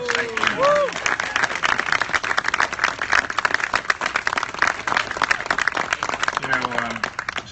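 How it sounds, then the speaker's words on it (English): Outdoor crowd applauding at a park dedication and lighting ceremony, sustained dense clapping from many people with brief voices and cheers mixed in at the start and end. "please give yourselves a big round of applause."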